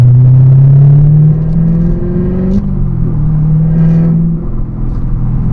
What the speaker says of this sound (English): put on a little rev match. Third gear, there we go. Down to second.